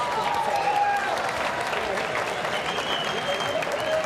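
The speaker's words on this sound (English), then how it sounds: "let's have a nice round of applause for both fighters" Arena crowd at a bare-knuckle boxing event at Hard Rock Live in Hollywood, Florida, applauding both fighters, with dense steady clapping and cheering throughout, loud and close, with faint tonal whistles or calls above it.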